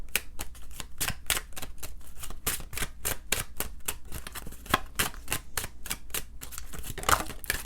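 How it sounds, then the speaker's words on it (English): A tarot deck is shuffled rapidly by hand, producing a dense, uneven run of sharp papery clicks and snaps, close and steady, with no voice. "You see how many times I shuffled that deck?"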